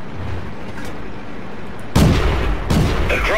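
Tank cannon firing in World of Tanks, two heavy booming blasts in quick succession over a low rumbling battle background, loud and close.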